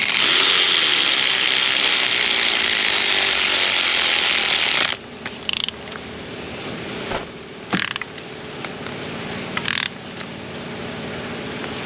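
A hand ratchet runs a spark plug down into the engine of a 2015 Toyota, a loud, close rapid clicking that continues steadily, then breaks into short separate bursts of ratcheting with pauses between them.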